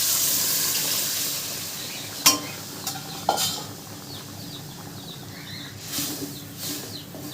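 Boiled dal is poured into sautéed vegetables in a cooking pot, with a few sharp clinks of a utensil against the pot, some wet splashing and soft stirring over a steady background hiss.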